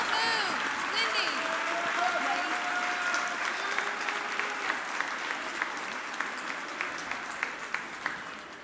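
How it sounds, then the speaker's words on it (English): Crowd in a high school gym at a JV volleyball match between Highlands and Franklin applauds players and parents with sustained, full clapping that fades gradually, with cheers and voices mixed in. "Would you please stand and give them all a round of applause?"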